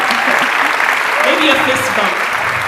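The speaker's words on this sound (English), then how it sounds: "so you can start clapping for them" Audience applause for two people joining a live-streamed International Placemaking Week event, a steady broadband patter throughout, with a voice speaking briefly over it.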